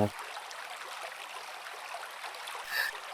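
Water rushes steadily at the Tat Sadao and Pha Tat waterfalls in Kanchanaburi, a constant broadband wash of flowing water with a brief handling noise at the start and a small swell near the end.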